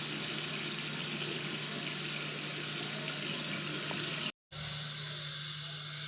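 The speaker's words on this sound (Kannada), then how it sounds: "ನೀಟಾಗಿ ಒಂದ್ಸಲ ಫೇಸ್ನ ವಾಶ್ ಮಾಡ್ಕೊಳ್ತೀನಿ" Tap water runs steadily into a sink during face washing, a continuous close hiss with splashing that cuts out briefly near the end and then resumes.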